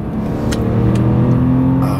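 A 2004 BMW E46 3 Series inline-six engine revs and winds out smoothly at close range, its rising hum loud and steady with faint clicks above, with no talking.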